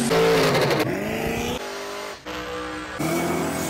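An LS9-swapped third-generation Camaro with an upgraded open exhaust roars on a dyno, its engine loud and close as it revs hard, drops back briefly, then pulls up again in sustained bursts.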